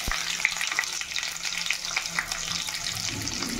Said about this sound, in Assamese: পিঁয়াজটো এতিয়া মই ব্ৰাউন হোৱালৈকে ইয়াত ভাজি দিম।